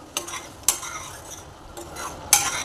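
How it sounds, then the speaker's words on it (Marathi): A spoon stirring palak paneer curry just after salt goes in, a few soft scrapes and clinks against the pot over a faint simmer, close by with no voices. "आता आपण ह्यामध्ये जे आहे मीठ टाकून घेऊयात। हलवून घेऊयात।"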